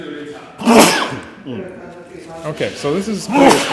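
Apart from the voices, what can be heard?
sneeze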